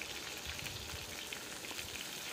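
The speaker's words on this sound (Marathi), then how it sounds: "इथे मी तेल तापत ठेवलेलं आहे, याच्यामध्ये जिरे मोहरी घातलेले आहेत आणि आपण ही वांगी यामध्ये सोडून घेणार आहोत" Stuffed eggplants go into hot oil with cumin and mustard seeds, giving a dense, steady crackling sizzle close by, continuous throughout with no talk.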